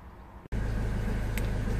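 A Jaguar X-Type 2.0 TDCi diesel with a flashing glow plug light, limp mode, cutting out and air in the fuel system runs at a steady, even idle. The hum starts abruptly after a brief drop-out.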